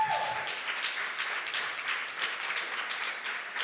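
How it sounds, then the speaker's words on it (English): Warm applause for teachers at a programming bootcamp demo day in Madrid, a crowd of hands clapping in a steady, lively patter that continues throughout at moderate volume. "So many thanks and a big round of applause to 17 teachers that have been with us in this amazing kickoff"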